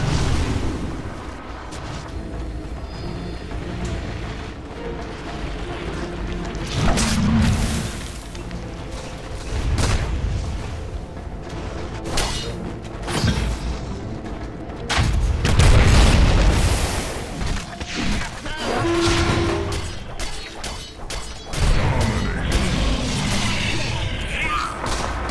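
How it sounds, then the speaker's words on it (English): Dota 2 match with a tower under attack, filled with continuous dense booms, blasts and crackling spell impacts layered over game music, loud and busy throughout with occasional brief announcer-like voice moments. "Dire's bottom tower is under attack."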